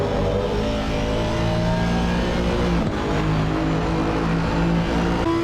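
A GT3 race car howls steadily through the final corner of a sim racing lap at Misano, its engine loud and continuous with shifting revs and faint tyre and gear noise beneath.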